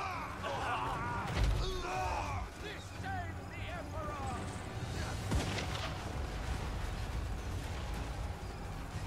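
Artillery fire booms in the video game Total War: Warhammer 3, with a couple of deep thumps amid a busy battle din of clashing and shouting, heard faintly at a distance.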